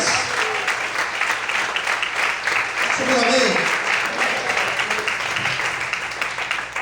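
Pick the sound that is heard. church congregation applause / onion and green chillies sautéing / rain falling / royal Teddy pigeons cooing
church congregation applause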